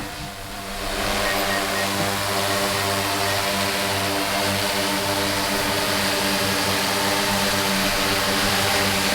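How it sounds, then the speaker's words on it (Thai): An agricultural spraying drone flies close by, its rotors producing a loud, continuous buzzing drone that swells in the first second and holds steady throughout. "โดรนมาช่วยนะครับ"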